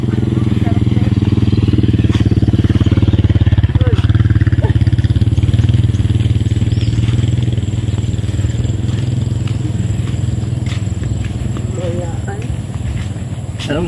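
A motorcycle engine drones steadily near a riverside shore in the Philippines, a low sustained rumble that fades slightly toward the end, with people talking over it.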